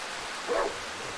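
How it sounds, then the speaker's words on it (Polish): A dog in the horror video game Darkwood gives a single brief, muffled bark or yip at mid-distance, faint against a hushed ambient background. "Pies."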